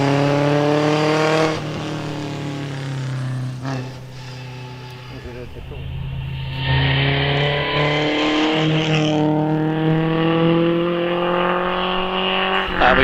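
A vintage Riley Brooklands race car pulls away from the start line at a hill climb. The engine note runs loud and steady and climbs through the gears. A commentator's voice runs over it.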